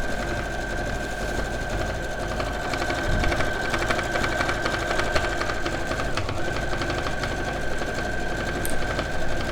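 Sewing machine stitching a zigzag on quilt binding, running steadily and close for the whole stretch with a constant whirring hum and rapid needle ticking, with one brief pause near the end.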